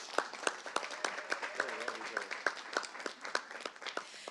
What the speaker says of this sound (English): I want to give her a special round of applause too